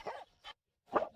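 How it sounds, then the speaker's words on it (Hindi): A dog barks in two short bursts, the second louder and closer, with a brief yip between them and a quiet gap. "ये लाइफू वांग चेंगुई का नाम सुनते ही भौंकता है"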